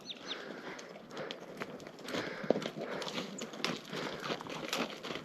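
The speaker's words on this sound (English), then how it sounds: "We had to pull over for the pack horses." Pack horses walking down a mountain trail on the Salkantay trek toward Machu Picchu, a soft, uneven clip-clop of hooves nearby with light rustling, fairly quiet and steady throughout.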